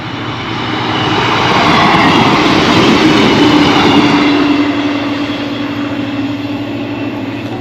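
A loud, rumbling passing train builds up, holds a steady roar with a faint whine, then slowly fades, heard close by outdoors at a footpath crossing along the River Trent between Gainsborough and Torksey.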